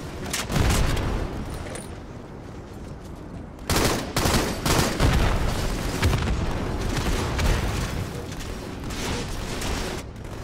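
Heavy shotgun blasts and other gunfire boom through a chaotic Halo MCC Crazy King match on the map Warlord, dense loud volleys with a sharp surge of shots partway through and no voices.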